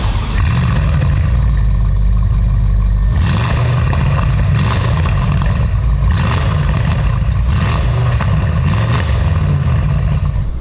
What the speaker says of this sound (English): I'm gonna start this car up and let you guys listen to see what it sounds like